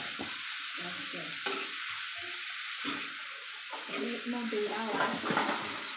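Prawns fry in a pan under a bright, constant hiss, while a spatula stirs and scrapes in uneven strokes close by. A faint voice murmurs briefly near the end.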